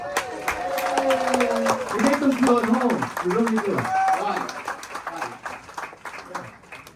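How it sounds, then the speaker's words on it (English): A cruise-ship room of Canadians claps for themselves, scattered applause building under a voice and then tapering off as talking continues. "give yourselves a round of applause"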